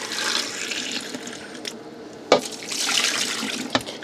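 Tap water runs steadily into a sink while a dish is rinsed in an RV kitchen, a close splashing hiss broken by a few brief clatters and thumps, with no talking.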